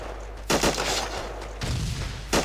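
A video game battle with weapons firing at armored vehicles: three heavy, booming shots roughly a second apart, each with a rumbling tail, over a constant low hum.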